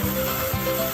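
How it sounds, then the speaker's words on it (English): Yam being grated by hand for pounded yam, using a fine comb-style grater: a steady, continuous rasping scrape with rhythmic rubbing strokes, close and moderately loud, no voices. "So I'm now grating my yam for the pounded yam."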